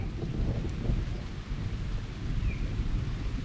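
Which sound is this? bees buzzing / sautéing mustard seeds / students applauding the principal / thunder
thunder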